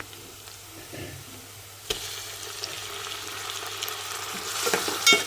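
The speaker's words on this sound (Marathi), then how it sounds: "तर आता टोमॅटो पण आपण मऊ होईपर्यंत परतून घेऊया छान असा" Chopped tomatoes sauté with softened onions in a hot pan for spinach chicken, giving a steady close sizzle broken by one sharp clank of a utensil and a few soft stirring scrapes.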